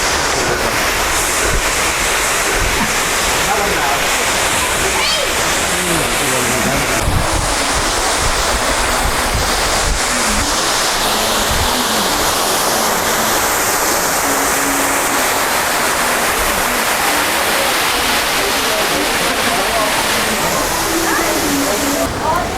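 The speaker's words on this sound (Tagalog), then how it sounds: "Nagla-lunch ka tapos saririnig mo yung lagas-gas ng tubig." Water rushes loudly and steadily beside a riverside lunch spot in Negros Oriental, a constant close roar of flowing water with wind buffeting the microphone and voices talking over it.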